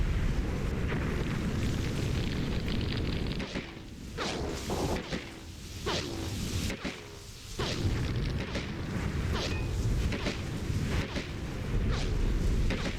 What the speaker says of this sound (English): So here it's cool to see the AGL in action.